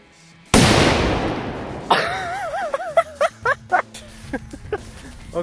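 A single loud M-80 firecracker blast cracks out sharply, followed by a rumbling decay, then several short squeaky chirps and pops after it.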